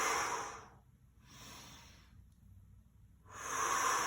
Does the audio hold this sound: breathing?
yes